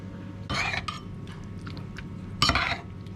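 A spoonful of sauce goes into a bowl of boiled prawns, two brief clinks and scrapes of spoon against bowl, close and quiet, with no talk.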